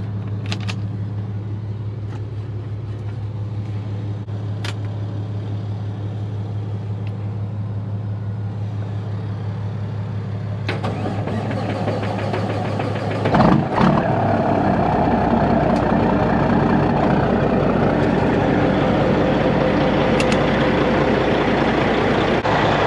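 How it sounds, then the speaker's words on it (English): A Kenworth truck's diesel engine idles steadily with a strong low hum, then grows louder and rougher partway through as it runs to build up air pressure, with a brief clunk near the change. "I'm gonna have to turn on the Kenworth and let it build up some air"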